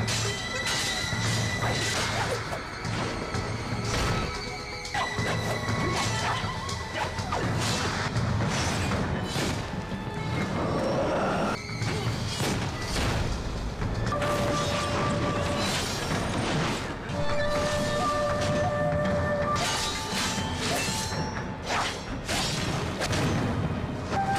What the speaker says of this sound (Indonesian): Gesekan senjata mereka tanpa sengaja memicu reaksi ledakan gas